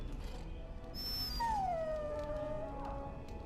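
A mabari war dog in the Dragon Age: Origins video game gives a drawn-out whining howl that slides downward over a couple of seconds, with softer yelps around it over a steady game background.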